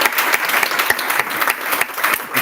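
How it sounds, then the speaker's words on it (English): An audience at the Evergreen Prize 2025 symposium applauds with dense, steady clapping that fills the whole stretch at an even level, with no voices breaking through. "I hope to ask for another round of applause for everybody today"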